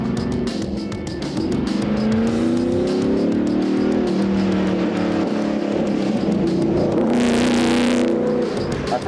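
A classic Camaro with over 700 horsepower runs hard around a technical road course at a Fayetteville, Tennessee training center, its engine roaring loudly and steadily, pitch rising and falling through gear changes, with a brief hiss of tire noise near the end.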